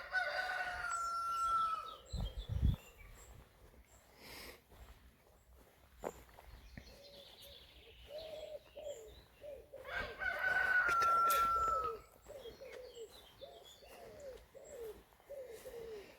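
A farmyard rooster in Brittany crows in loud, drawn-out calls, once early and again near the middle. Footsteps crunch and other birds chirp around it outdoors, and nobody speaks.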